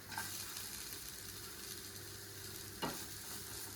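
Fried sardines stirred into a hot, sizzling masala in a pan, a steady broadband sizzle with a sharper scrape of the spoon near the end.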